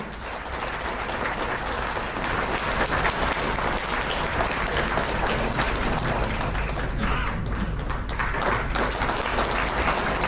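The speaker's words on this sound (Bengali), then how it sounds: "সবাই মিলে একটি জোরদার করতালি হোক।" A crowd at a government award ceremony gives sustained, dense applause for a district receiving third place. The clapping is loud and continuous for about ten seconds and fills the hall.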